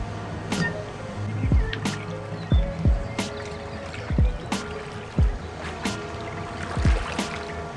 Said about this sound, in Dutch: ik ga met de boot aan